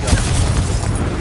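A Confringo explosion spell from Hogwarts Legacy bursts in a loud, low, rumbling boom with a broad, noisy wash that sustains evenly through the whole brief moment.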